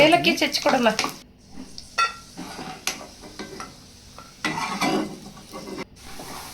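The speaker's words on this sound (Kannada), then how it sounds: "ದ್ರಾಕ್ಷಿ ಗೋಡಂಬಿನ ತುಪ್ಪದಲ್ಲಿ ಫ್ರೈ ಮಾಡಿಕೊಂಡು" Raisins and cashews frying in ghee in a pan, bursts of sizzling and stirring clatter broken by quieter stretches, with someone talking over parts of it.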